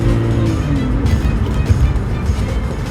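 Car engine pulling hard from a green light on a city street, a steady loud low rumble building throughout from inside the cabin, with no talk.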